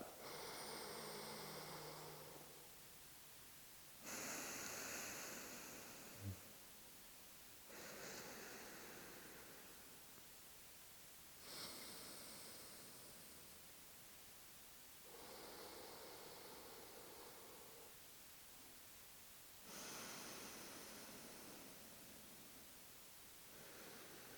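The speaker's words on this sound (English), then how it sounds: "breathing in through my left" Slow alternate nostril breathing, with soft airy inhales through the left nostril while the right is held shut, heard close in a quiet room as several long breaths drawn in a steady, unhurried rhythm with pauses between.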